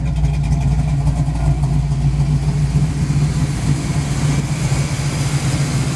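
A 1972 Pontiac Firebird engine with a new aluminum radiator idles steadily at about 1,000 RPM with a low, even rumble, close up and continuous, no voices.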